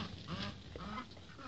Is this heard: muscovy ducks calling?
yes